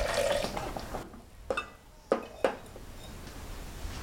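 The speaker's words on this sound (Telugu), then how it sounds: "దీంట్లో కూడా కొన్ని వాటర్ యాడ్ చేసుకోవాలండి." Water is poured into a simmering sweet cherry tomato curry in a pan, a short gush followed by a few soft splashes and drips in a quiet kitchen.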